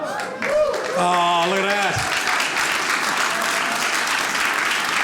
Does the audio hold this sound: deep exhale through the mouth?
no